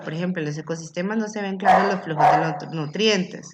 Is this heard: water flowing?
no